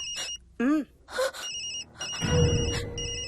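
A phone rings with repeated electronic beeping tones, interrupted by short vocal sounds and a dramatic swell of music.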